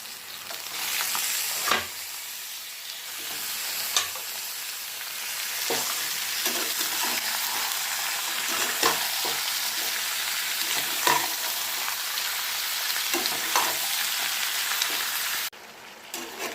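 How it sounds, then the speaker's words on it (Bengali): Mutton pieces frying with onions in a pan, with a continuous close sizzle broken by repeated scraping and clacking stirring strokes throughout and no voices. "মাটনগুলো হালকা ভাজা হয়ে গেছে।"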